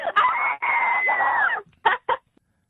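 Screams recorded from callers to a telephone scream hotline: one long, strained, thin-sounding scream followed by two short, sharp yelps, then silence.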